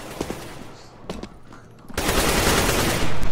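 AK rifle fire in a first-person shooter game, a few sharp separate shots early on, then a dense, sustained burst of rapid fire that swells loud to the end of the clip; no voices.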